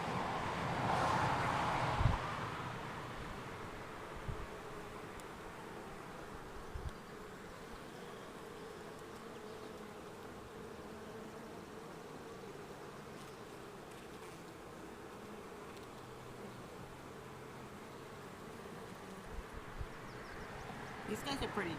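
Honey bees buzz around open hive frames, a soft continuous drone of many insects close by with a louder pass near the microphone at the start and some light handling bumps.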